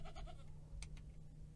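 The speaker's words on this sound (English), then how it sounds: "the goats are bleating at everybody" A few short goat bleats sound at a modest distance, a quick cluster early and a couple more cries shortly after, over a low steady hum, in Minecraft.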